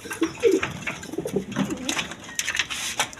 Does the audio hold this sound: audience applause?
no